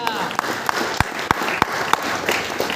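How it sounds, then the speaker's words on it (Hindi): A congregation at a Hindi Bible lesson claps in a steady rhythm, single sharp claps about every third of a second over a bed of crowd murmur and a voice talking. "फिर ताली बजाओ"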